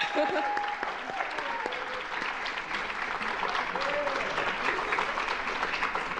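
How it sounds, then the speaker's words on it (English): Applause from an audience at a university awards ceremony for a staff excellence award recipient, a dense, steady clapping of many hands throughout, with a few voices and cheers mixed in. "we can clap for him now"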